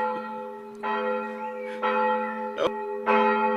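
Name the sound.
church bell ringing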